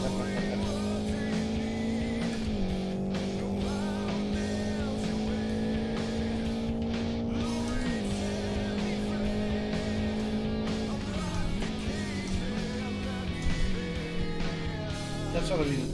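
Car engine in the Live for Speed racing game around the Aston Cadet circuit, a steady loud engine drone with shifting pitch and some tire squeal as the handbrake slides the car, with a voice talking over it.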